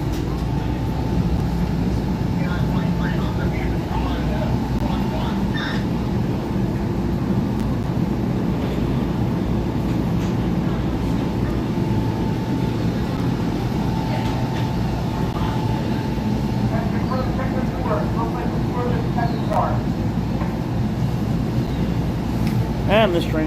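The Princeton Dinky shuttle train runs through Princeton Junction station with a loud, continuous rumble of rolling wheels and wind buffeting the microphone, while people talk nearby.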